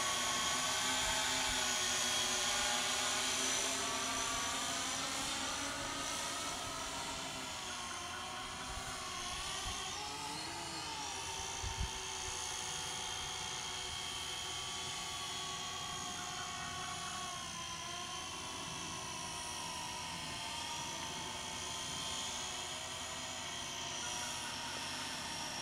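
A Syma X8C quadcopter drone hovers nearby with a constant high buzzing propeller whine that wavers slightly in pitch for the whole stretch, with no talking.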